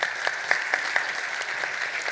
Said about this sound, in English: Join me in a round of applause to our guests here.